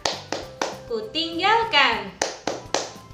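Children clap in a steady rhythm along to a clapping song, sharp close claps spaced evenly before and after a sung phrase, with a voice singing in the middle.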